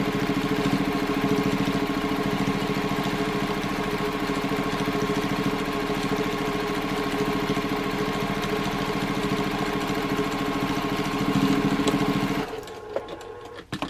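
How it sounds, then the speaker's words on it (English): A sewing machine stitches steadily through thick layered seams of fabric while a slouchy origami bag is sewn, a fast even mechanical whir close up that stops abruptly near the end. "and I will stitch again. And you can hear it's going through a lot of seams here, a lot of material."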